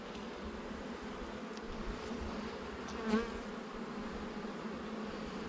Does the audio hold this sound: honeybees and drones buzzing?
yes